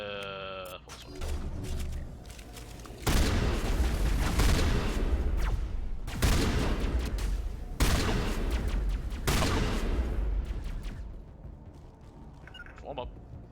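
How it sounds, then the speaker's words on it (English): Sniper rifle fire in the video game Mass Effect: several sharp, heavy shots ring out in separate blasts a few seconds apart, with a sustained rumble between them and a short electronic tone at the start. "It's gonna be a sniper rifle because I suck."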